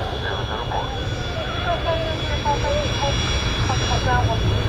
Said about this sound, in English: We've got another Ryanair coming in.